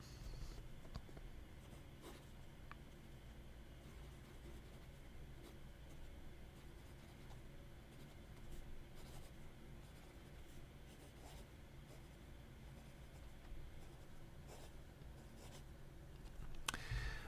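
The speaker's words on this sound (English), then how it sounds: "When I write with this beautiful pen" A Visconti Homo Sapiens Bronze Age fountain pen writes on paper, a steady, soft scratching that runs on without a break for about seventeen seconds, close and fairly quiet, with no one talking.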